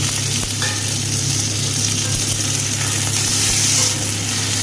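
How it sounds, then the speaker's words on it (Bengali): Ginger, garlic and chopped tomato fry together in a pan, giving a steady, close sizzle with a low hum underneath and a few soft clicks of stirring. "ভালো করে আদা রসুনটাকে ভেজে নেব একই সাথে দিয়ে দেব কেটে রাখা টমেটো"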